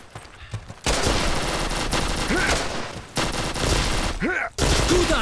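Automatic rifle fire sprays in long bursts during a Karma Online match, loud and near, broken by a brief pause before firing resumes, with shell and effect sounds between volleys.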